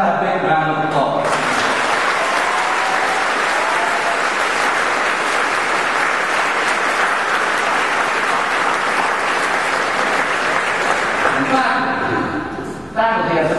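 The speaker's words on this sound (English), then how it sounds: "How about a big round of applause?" Loud, sustained applause fills a hall at the 2008 Rollins College convocation as the crowd honors the faculty, a dense wash of clapping that runs nearly fourteen seconds before tapering off, with a voice briefly heard at either end.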